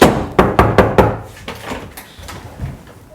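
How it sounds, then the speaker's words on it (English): Knocking on a closed wooden hallway door: four or five sharp, loud knocks in quick succession, followed by a few softer, scattered taps, with no talking over them. "close the hallway door, and knock on it"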